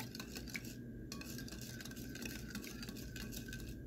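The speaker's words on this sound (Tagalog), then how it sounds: "Mix lang natin guys para matunaw yung ating sugar." A spoon scrapes and clinks against a pot while stirring a gulaman dessert mixture with fresh milk to dissolve sugar, a steady busy rattle of metal on cookware with no voices.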